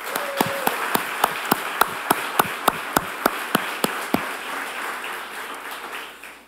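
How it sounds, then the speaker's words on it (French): Applause from a gala audience at the Uashteshiu 2024 event, with loud, evenly spaced sharp claps standing out over a dense crowd patter that fades toward the end. "Une bonne main d'applaudissements,"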